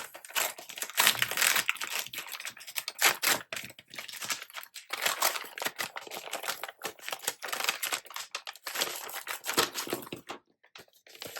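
Hands unwrapping a Planything planner subscription package, with crinkling, tearing and rustling of paper and plastic wrapping in close, irregular bursts and brief pauses, no talking.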